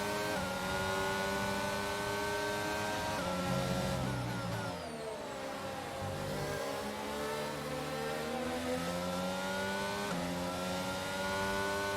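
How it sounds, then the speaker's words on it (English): Formula 1 race car engines in the F1 22 video game at Bahrain, a loud continuous whine with shifting pitch as cars run in a pack, gear changes and revs rising and falling throughout. "I'm trying to get some slipstream from Gasly"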